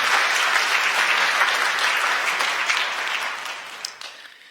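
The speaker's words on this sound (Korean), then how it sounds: "여러분들 환영의 박수 부탁드리겠습니다" A church congregation at a Sunday service applauding in welcome of a new member, a full, close burst of clapping that gradually thins and fades toward the end.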